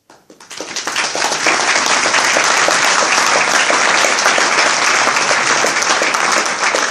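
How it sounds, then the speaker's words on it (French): Loud audience applause for Madagascar tourism stakeholders at a promotional event, starting with a few scattered claps and swelling within a second into dense, sustained clapping from a large crowd. "que je tiens à applaudir parce qu'ils sont aussi à top présent aujourd'hui"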